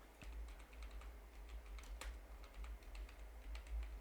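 Typing on a computer keyboard during bookkeeping data entry, quiet close-up key clicks in irregular bursts with a few sharper strikes, faint and alone over low background hum.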